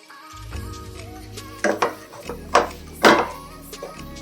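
A spoon stirs carrot and milk halwa in a pot, giving a few distinct scraping swishes against the metal over a low simmering hum, close and clear with no talking.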